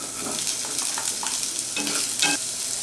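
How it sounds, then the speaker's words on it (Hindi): Chopped onions frying in a pan for a masala soya chunk curry, a steady close sizzle with stirring scrapes and clinks throughout. "इसके बाद हम इसमें डालेंगे कटे हुए प्याज"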